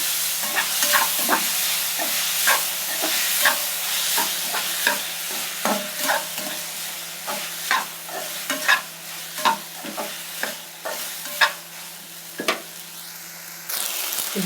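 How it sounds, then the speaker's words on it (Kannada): Pasta and vegetables fry and sizzle steadily in a pan while a spoon scrapes and stirs in a regular rhythm of close, distinct strokes, with no voices over the sizzle. "ಈ ಪಾಸ್ತಾ ಹಾಕ್ತಾಯಿದ್ದೀನಿ"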